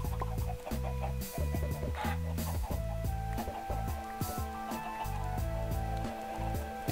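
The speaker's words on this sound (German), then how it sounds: "Wir bekommen jetzt richtig viele Hühner hier." Chickens in the Minecraft video game cluck repeatedly against a steady tonal game background, with the calls scattered throughout and no one talking.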